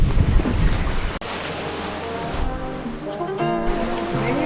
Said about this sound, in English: This is the ocean right here.